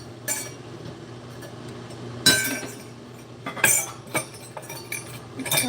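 Rose gold wine glasses clink faintly as wine is poured, a few scattered light glassy taps and knocks over a quiet kitchen background.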